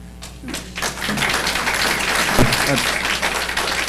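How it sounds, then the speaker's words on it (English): Applause breaks out among the audience at a school board meeting, a dense patter of clapping building over a few seconds with a few thumps and murmuring voices. "I'd like to ask everyone to let's please refrain from applause"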